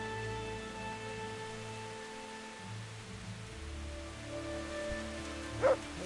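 Steady rain falling in Kingdom Come: Deliverance, a soft continuous hiss of drops near a church, under tonal background hum with a brief dog-like bark toward the end.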